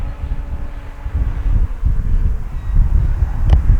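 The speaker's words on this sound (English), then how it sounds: "Boy, that wind." Wind blowing across an RC plane flying field, a steady low buffeting rumble on the microphone with gusty swells and a brief sharp tick near the end.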